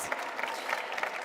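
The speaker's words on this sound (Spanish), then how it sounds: "Despedimos con un fuerte aplauso" An audience at the close of a software talk claps steadily, with individual claps distinct within a moderate, even round of applause.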